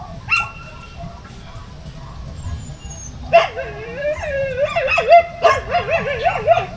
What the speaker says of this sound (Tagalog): Maingay yung aso. Nagugutom na yan.